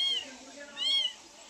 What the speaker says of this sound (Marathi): मांजर बसते पिली घेऊन. बारकी बारकी पिले येते.